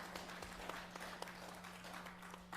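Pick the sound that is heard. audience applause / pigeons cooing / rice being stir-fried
audience applause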